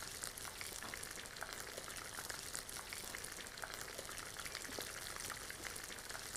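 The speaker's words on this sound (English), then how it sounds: "Keep flipping the rolls during frying." Chicken spring rolls frying in oil on medium heat, a faint, dense, steady crackle and hiss like light rain, continuous with no pauses.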